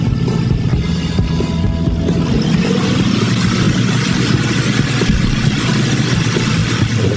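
A light aircraft rolling down the runway just after touchdown gives a loud, continuous engine roar with deep rumble that stays steady throughout, with no voices.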